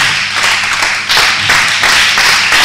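A church congregation claps in praise to the Lord, with steady rhythmic hand claps, loud and close, repeating in even beats with no talking over them.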